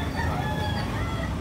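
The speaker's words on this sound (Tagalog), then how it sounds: "Wapo kay manok si Boss Hill." A gamecock rooster crows steadily in the foreground at Carbon Public Market, with clucking from other chickens mixed in and a dense market noise throughout.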